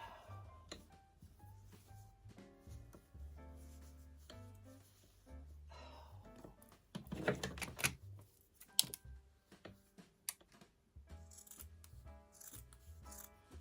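Scissors snip and trim quilt fabric on a butterfly quilt block, close and quiet, with irregular crisp cuts and rustling handling of the cloth between them.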